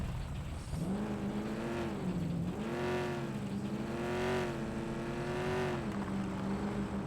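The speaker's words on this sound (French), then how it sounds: "Putain, le bruit de la voiture est dégueulasse." A rough-sounding car engine in the video game American Fugitive drones and revs in wavering, rising and falling surges, loud and continuous throughout.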